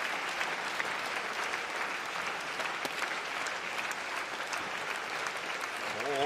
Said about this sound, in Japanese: 手拍子が鳴りやまない。